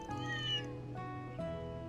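A cat meows in the video game Trails Through Daybreak, a drawn-out, tonal call that bends and shifts pitch, close and clear, with no talking.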